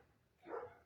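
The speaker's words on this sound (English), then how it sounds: "he's making your dogs bark too" A dog gives a single muffled bark from somewhere indoors, fairly faint and a little distant, with a quiet room around it.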